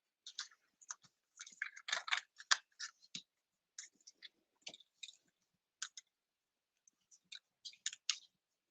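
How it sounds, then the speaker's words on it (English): Stampin' Cut and Emboss die-cutting machine working a card-making die: a quiet run of close, irregular clicks and ratcheting crunches in bursts, with short pauses between, no talking. "And my Stampin' Cut and Emboss"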